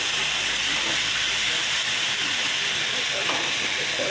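Fish sizzles and hisses in a hot pan as it is stirred into spices, a dense, continuous frying noise close by, with faint scraping and clatter near the end and no talking.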